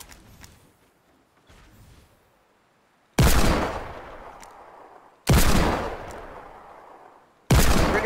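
Three loud, sharp Desert Eagle pistol shots in a video game, each a close, heavy crack with a ringing decay, spaced a couple of seconds apart after a quieter stretch of faint movement.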